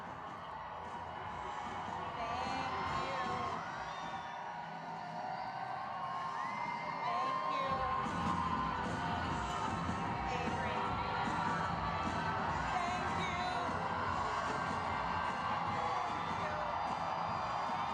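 A large crowd at an election-night event cheers continuously with whoops and shouts as Governor-elect Abigail Spanberger approaches the podium, and the roar swells partway through.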